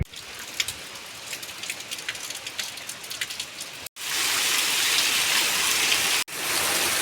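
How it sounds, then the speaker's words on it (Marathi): Heavy rain pours steadily and loud, a dense roaring wash over the whole clip, growing stronger and more uniform partway through with two brief cut-outs. "पाऊस धुमडा पडाला आहे"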